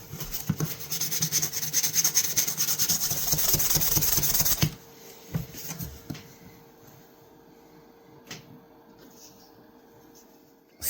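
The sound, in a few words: sanding a knife with 1200 grit sandpaper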